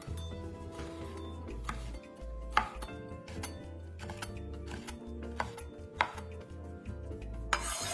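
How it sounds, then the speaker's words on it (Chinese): A knife chops a halved, deseeded fresh red chili into strips on a board, giving a steady run of crisp, close taps over a low, steady background. "新鲜红辣椒一条，对半切开，去籽后再切成丝"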